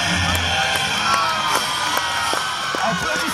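Crowd at a medieval fair cheering, whooping and shouting, with children's voices among the din, sustained and lively throughout with repeated sharp yells rising above the noise.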